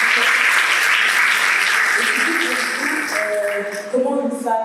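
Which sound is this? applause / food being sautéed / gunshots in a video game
applause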